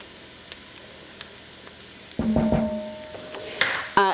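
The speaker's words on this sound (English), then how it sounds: "So now I'm gonna go ahead and add my garlic, about 2 cloves of garlic" Garlic cloves sizzling in a pan with onions give a quiet sizzle. Several sharp clinks and scrapes come from the pan partway through.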